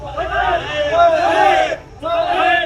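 A crowd shouts a rhythmic Urdu religious chant in unison, "Tajdar-e-Khatm-e-Nabuwwat, Labbaik Ya Rasool Allah," two loud phrases separated by a brief pause, voices blending into a roaring chorus.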